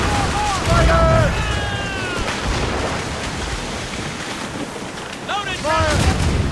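Ship cannons boom in a naval battle in Assassin's Creed Rogue, heavy blasts rolling out amid crew shouts and commands, with a loud burst near the start and another toward the end.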